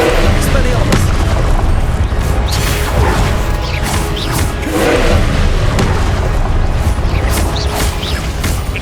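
Repeated booming blasts of the Confringo explosive spell in the video game Hogwarts Legacy, loud crashing impacts following one another steadily throughout with clattering debris.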